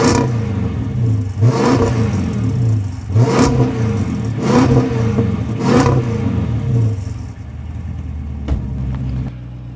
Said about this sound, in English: It just sounds like an average car.